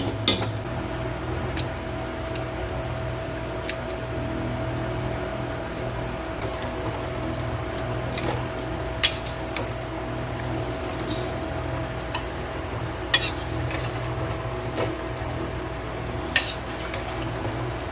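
Chicken stirred in a pan of frying spice paste with fenugreek water, soft sizzling under sharp scattered clinks of a spoon against the metal pan, close and intermittent.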